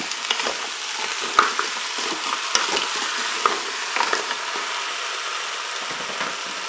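Potatoes and spinach frying in a Cookeo multicooker on its browning setting, a steady close sizzle with scattered stirring clatters and taps throughout, no voices.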